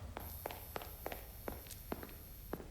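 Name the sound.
monster's footsteps in video game Forgotten Memories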